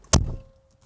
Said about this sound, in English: That is a beautiful door closing sound.